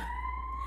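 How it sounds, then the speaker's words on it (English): A siren wails steadily at a fairly constant pitch near a hospital, sounding moderately distant, with no speech over it. "Sorry for the siren."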